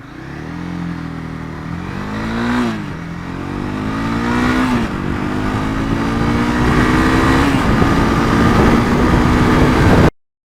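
Honda 2017 CB300F motorcycle accelerating hard from a standstill, its engine note climbing through several rising gear pulls with brief dips at the shifts, loud and close with no talking.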